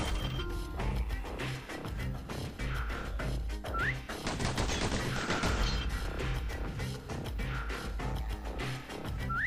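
Rapid pistol fire and crashing impacts in the action game Bastion, layered over a busy game soundtrack, with dense bursts of shots and smashes at a moderate level.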